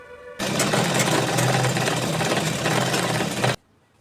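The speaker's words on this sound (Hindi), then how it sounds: "अब हम नीचे से सिलाई लगा देंगे।" An electric sewing machine runs steadily for about three seconds stitching the bottom hem of a ladies' palazzo pant, a loud close whirring buzz that starts and stops abruptly.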